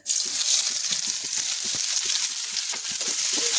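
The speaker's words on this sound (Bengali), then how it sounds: "এরপর আমি এতে দিয়ে দেব এই কুচি করে রাখা পেঁয়াজ" Chopped onion sizzling loudly in hot oil with garam masala for a Bengali mutton curry, a dense continuous hiss close up, with faint stirring knocks underneath.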